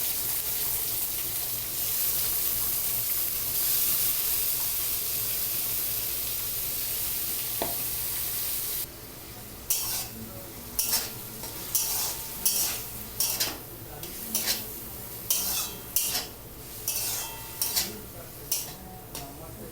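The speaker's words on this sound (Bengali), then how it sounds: "একটু নেড়েই এবার টমেটো কুচিগুলো এর মধ্যে দিয়ে দেবো" Chopped tomatoes for a tomato egg drop soup hit a hot pan with a loud, even sizzle, which then softens under a run of regular spatula strokes clicking against the pan.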